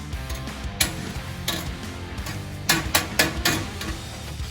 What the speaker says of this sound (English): Using a few different metal forming dollies and a body hammer, we worked the lower edges of the inner door bottom panels